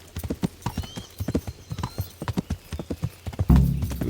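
Horse hooves clip-clop in a steady rapid rhythm as a rider travels in Kingdom Come Deliverance, close and distinct, with a heavier thump and rumble near the end.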